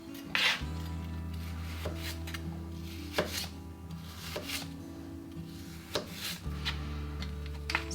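Apples are sliced for dehydrating with a very sharp kitchen knife, giving a series of crisp, irregular chopping knocks against a cutting board, close and clear over a low steady hum.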